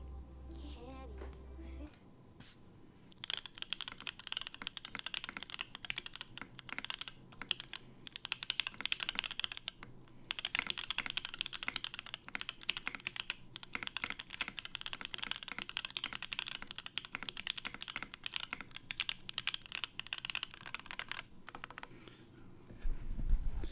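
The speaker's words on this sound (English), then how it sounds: "Let's do a quick typing test before we replace the caps." Rapid continuous typing on a mechanical keyboard with its original keycaps, a steady close stream of clacking keystrokes lasting about twenty seconds at modest level.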